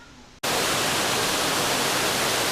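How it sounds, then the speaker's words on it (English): Steady, loud rushing water from waterfalls where the Duck River overflows at Old Stone Fort in Manchester, Tennessee, a dense broadband roar that begins abruptly and continues without a break. "It's quiet aside from the rushing water."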